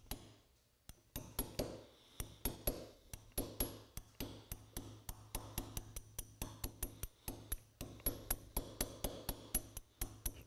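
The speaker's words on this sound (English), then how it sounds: "I'm going to get a little hammer here. I'm going to just pack it just a little bit." Small hammer packing a hot Damascus steel tomahawk head, a long run of sharp metallic taps at a steady, quick rhythm, close and clear, with brief pauses between bursts.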